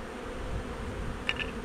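Bees hum steadily at a new hive as a spring nucleus colony is moved in, a faint continuous buzz with a brief louder pass near the end.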